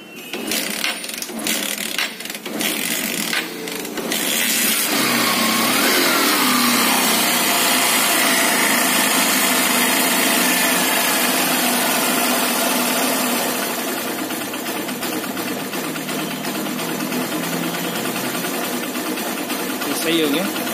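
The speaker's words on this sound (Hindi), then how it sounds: "अब हम इसे स्टार्ट करते हैं बाइक को।" A Honda Shine motorcycle with a run-down battery is kick-started, and the single-cylinder engine then idles loudly and steadily close by, with brief clatter at the start and a speaking voice over it.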